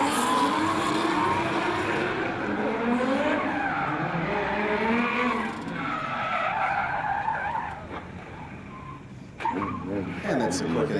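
A D1NZ pro-sport drift car over-rotates and spins at Manfeild circuit in Wellington, its tires skidding and squealing continuously under loud engine noise, with a commentator talking throughout.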